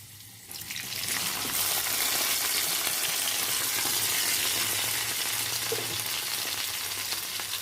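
Capsicum dropped into a hot pan swells into a loud, steady sizzle that holds on evenly, close and without talk.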